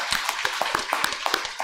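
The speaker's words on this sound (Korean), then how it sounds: "박수하겠습니다." During a Sunday church service, a small number of hands clap in a quick, regular rhythm, about a dozen distinct claps in under two seconds, fairly close and clear.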